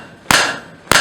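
Two heavy hammer blows ring out on hot steel over an anvil while drawing out stock to forge a steel rose, each a sharp close strike with a brief metallic ring, spaced about half a second apart.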